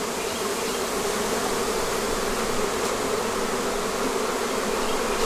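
A massive swarm of honeybees fills a bee yard with a dense, continuous buzzing drone, loud and unbroken, thousands of wings humming together with no gaps.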